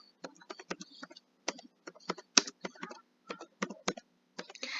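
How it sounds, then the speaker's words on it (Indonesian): Fingers type on a computer keyboard, entering a name for a leaderboard in a learning game, a close series of crisp irregular key clicks in quick bursts with short pauses. "Kemudian kita ketik nama kita."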